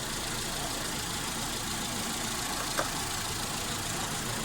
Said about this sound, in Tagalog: Kailangan andar yung makina.